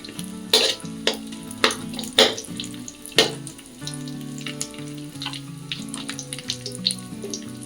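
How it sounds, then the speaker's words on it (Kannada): Coconut pieces roasting in a pan until they turn reddish, giving a steady sizzle with repeated sharp scraping and stirring clatters, close and fairly loud, with no talk. "ಕೆಂಪು ಬಣ್ಣ ಬರೋವರೆಗೂ ಸ್ವಲ್ಪ ರೋಸ್ಟ್ ಮಾಡ್ಕೊಳ್ಳಿ"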